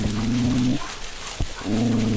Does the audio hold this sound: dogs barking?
yes